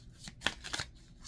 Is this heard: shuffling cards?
yes